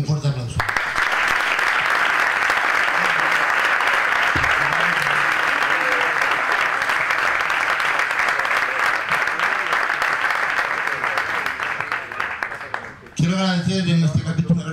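Crowd at a boxing gala giving loud, sustained applause that fills nearly the whole stretch, then drops briefly near the end before a voice over a loudspeaker starts talking.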